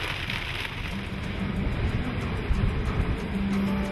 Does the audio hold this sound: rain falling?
yes